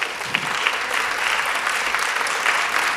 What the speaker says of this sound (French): On peut encore l'applaudir bien fort